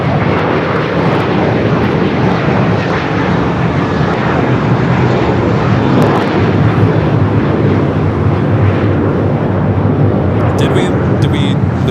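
A heavy widebody jet, either a Polar Air Cargo 777 freighter in Southern Air titles or a Hawaiian A330, departing from the south side at LAX, a loud sustained broadband engine roar with faint talk beneath it.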